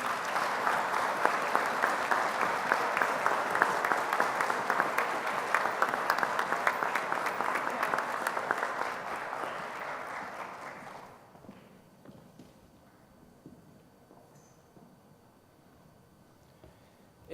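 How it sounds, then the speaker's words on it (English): Sustained applause from a ceremony audience honoring servicemen and women, dense and steady for about ten seconds, then fading to a few scattered claps and quiet room noise. "let us again have one more round of applause for all our servicemen and women."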